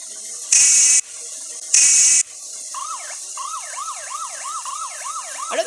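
In a Sri Lankan driving simulator video game, an ambulance gives two short, loud horn-like blasts, then its siren starts a rapid rising-and-falling wail that repeats steadily to the end, with no voices.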